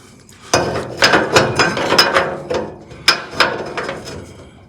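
A belt sander grinds a metal test piece down to a shallow angle for an El Camaro build, heard as repeated close, loud bursts of abrasive grinding in short passes with brief pauses between them.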